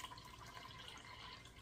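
Lime water solution poured gently over eggs for water glassing, a steady soft splashing and trickling of liquid running continuously at close range with no talk.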